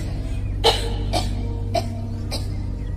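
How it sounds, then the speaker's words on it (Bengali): A person coughing four times in short, separate bursts, evenly spaced and fairly close, over a low steady background hum. "হঠাৎ দেবী মূর্তির স্বর বদলে কাশি হতে লাগলো"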